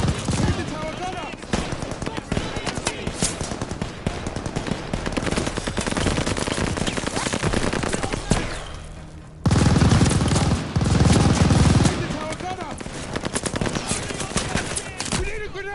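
Sustained machine gun fire in a war video game, loud continuous bursts of rapid shots with booming impacts, briefly pausing and then resuming even heavier, with shouted voices mixed in.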